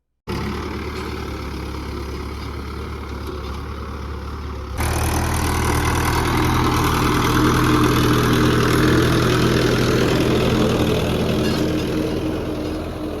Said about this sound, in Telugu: ట్రాక్టర్ ఎక్కాము చూడండి ఎలా తోలుతున్నాను